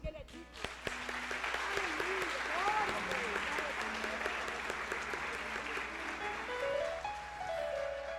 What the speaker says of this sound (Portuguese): Eu vou aplaudir o Senhor, porque Ele é digno.